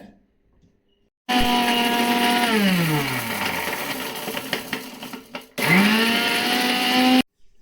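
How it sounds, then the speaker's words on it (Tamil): A blender grinds dried red chillies, tamarind and salt, starting loud after a pause, its motor pitch sliding down as the load bites, then cutting out briefly and restarting for a second loud burst. "இப்போ காஞ்ச மிளகா, புளி, தேவையான அளவு உப்பு, அரைக்க போகிறோம்."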